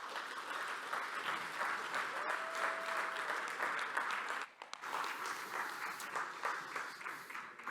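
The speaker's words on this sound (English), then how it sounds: "So please, big applause for Wojtek." Steady audience applause at a subscription-industry conference as a speaker is welcomed on stage, dense and sustained, dipping briefly near the middle before resuming.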